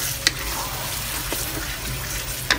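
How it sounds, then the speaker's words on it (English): Lime leaves stir-frying in hot oil for a sardine sambal, a steady close sizzle with a couple of sharp scraping clicks from the pan, no voices. "Stir fry until the oil submerge again."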